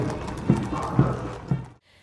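Horses of the 61st Cavalry Regiment, an unmechanized horse-mounted unit, parade past with three distinct, evenly spaced hoof clops over a busy outdoor din, ending in a brief near-silence.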